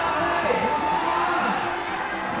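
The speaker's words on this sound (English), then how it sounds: "You can hear the crowd here getting fired up for Rei Sugimoto." A crowd at a bouldering competition at the IFSC Climbing World Cup in Vail cheers and roars loudly and without a break, a dense wash of excited voices.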